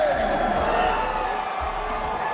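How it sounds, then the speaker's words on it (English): Cheering crowd at a UFC weigh-in in Phoenix, roaring for fighter BJ Penn as he steps to the scale; a dense, steady wall of shouts and whoops runs throughout, loud and continuous with a voice mixed in. "You hear the crowd just going nuts for the Hall of Famer, BJ Penn."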